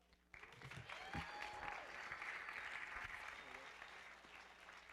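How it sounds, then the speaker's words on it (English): A graduation ceremony crowd breaks into applause after a brief quiet start, and the clapping holds at a steady, moderate level with faint voices beneath it. "Can we get a round of applause?"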